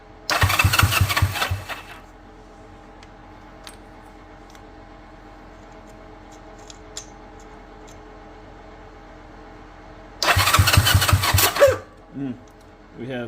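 An old Honda small engine revived from scrap fires up in two loud bursts of roughly two seconds each, sputtering and dying between them, with a quiet stretch in the middle.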